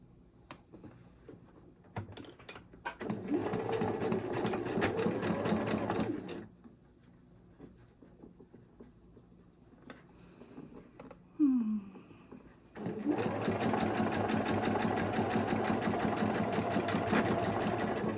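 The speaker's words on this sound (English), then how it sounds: "And then you're gonna sew that seam." A domestic sewing machine runs a fabric seam for quilting in two steady, whirring bursts. A quiet pause with small clicks and handling noises falls between them, and the second run is longer.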